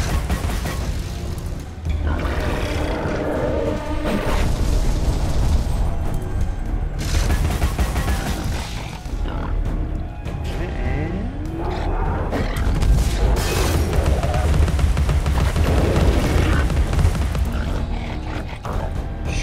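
Loud rapid gunfire bursts in the video game Alice: Madness Returns, layered over a dense roar of mechanical clanks, grunts and booms that continues almost without pause.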